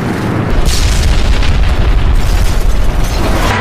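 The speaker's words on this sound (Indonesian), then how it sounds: "Pesawat tempur Jepang meluncurkan bom dan meledak di mana-mana" Bombs dropped by Japanese fighter planes exploding in a film battle scene, a loud, sustained rumbling roar of blasts with debris crashing, continuous and close throughout.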